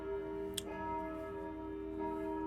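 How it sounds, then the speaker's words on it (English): A church bell tolls at dawn in the early morning, heard as a sustained, ringing hum with one sharp strike partway through, fairly loud and steady with no talking. "The bells of Slavoka toll with the dawn, still very early morning this day."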